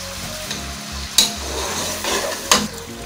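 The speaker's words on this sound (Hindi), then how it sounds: "अब ये गोश्त भून रहा है" Mutton sizzling loudly in masala for yakhni pulao, a close steady fry broken by two sharp spatula scrapes against the pot and softer stirring, no one talking.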